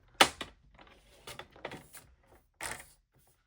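Scissors cut burlap-look paper strips for a handmade card, making a few quiet, close, crisp snips with short pauses between them.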